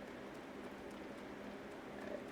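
Rain falling in the Zelda Tears of the Kingdom video game, a soft, steady hiss of drops on surfaces, faint and continuous throughout with no other sounds.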